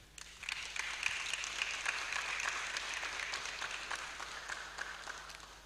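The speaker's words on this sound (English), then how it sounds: "Will you help me applaud his presence?" Steady applause from a crowd at a university convocation ceremony, many hands clapping together in a continuous wash that holds at an even level the whole time.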